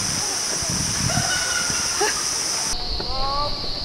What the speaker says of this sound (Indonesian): Air terjun yang jatuh di kolam sangat deras pemirsa